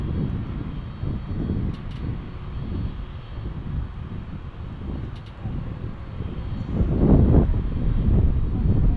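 A UPS cargo aircraft at DFW airport makes a steady, loud engine roar that swells toward the end, with wind buffeting the microphone throughout.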